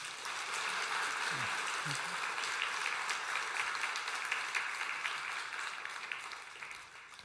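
A church congregation applauds to welcome a newly arrived evangelist, a broad, steady wash of clapping from many hands that fills the room and fades slightly at the end, with faint voices underneath.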